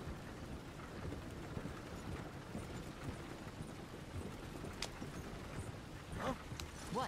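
Horse hooves clip-clopping on a road in Red Dead Redemption 2, a quiet steady rhythmic trot beneath falling rain with low rumbles, a few brief sounds near the end.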